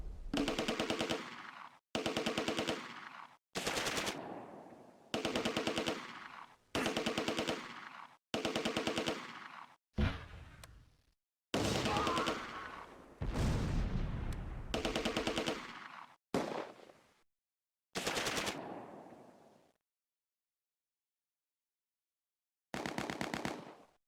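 Bren light machine gun fire in Close Combat: repeated bursts of rapid shots, about a dozen bursts roughly two seconds each, separated by short gaps, then a long silence before one last burst; loud and close, with no voices.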